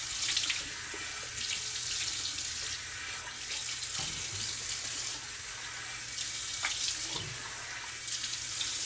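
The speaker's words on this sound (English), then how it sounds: "Just have to rinse off." Tap water runs steadily into a sink for rinsing off after a shave with a Gillette Labs exfoliating razor, a close continuous hiss with small splashing changes as hands move under the stream.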